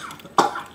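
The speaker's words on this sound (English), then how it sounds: "the dude coughing a lung up in front of the camera for you" A man coughing after smoking boysenberry-flavored shisha, one sharp close cough bursting out amid low background noise.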